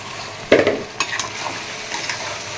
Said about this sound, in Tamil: இந்த கறி மிக்ஸ் பண்ணி வச்சுருக்கிறத போடுறேன்